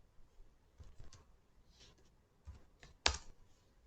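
Quiet keystrokes on a computer keyboard while code is typed, a few soft scattered taps followed by one sharper, louder click near the end, with no speech.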